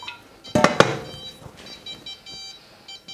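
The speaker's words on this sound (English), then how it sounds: "that noise is because I forgot to turn off the Instant Pot" An Instant Pot Duo Crisp air fryer left switched on gives a run of short, evenly spaced electronic beeps, preceded by a couple of loud clattering knocks from the kitchen.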